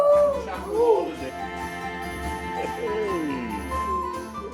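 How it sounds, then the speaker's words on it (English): Jack, a family dog, whines and howls in drawn-out, wavering cries that rise and fall several times, close by, with whimpering between them. "their loyal dog Jack, who also accompanies them on long journeys and always seems to have something to say"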